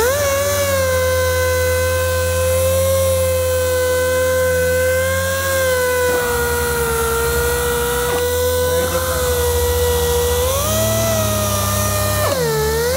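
A Rupes pneumatic random-orbital polisher runs continuously at close range, giving a loud, steady high whine over an air-driven hum, with brief pitch dips and shifts as the load changes.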